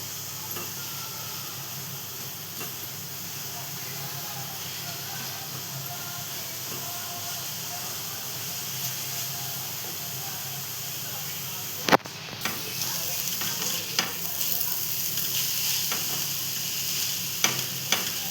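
Makhana (fox nut) powder stirred into a coconut ladoo mixture in a pan, a steady close sizzle and scraping hiss throughout, with a sharp clatter midway and occasional spoon knocks after.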